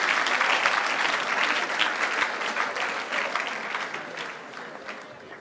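Audience applause at an evening worship vigil, a dense steady clapping that stays strong and gradually tapers slightly, with a faint crowd murmur beneath.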